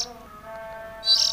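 Young oriental magpie-robin (kacer) giving a short, faint call, with a brief brighter chirp near the end and quiet background otherwise.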